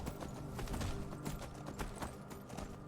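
Horses gallop in The Elder Scrolls game, a steady run of clip-clop hoofbeats with sharp thuds over a busy layer of game sound. No one speaks.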